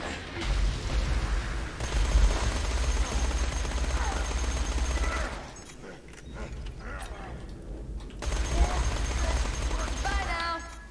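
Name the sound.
SMG gunfire in a video game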